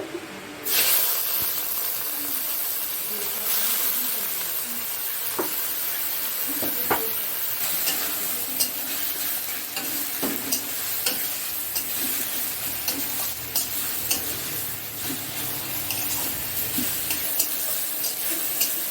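Jute greens sizzle and hiss in hot oil with black cumin, a loud, continuous fry close up, punctuated by sharp clicks and scrapes of stirring throughout.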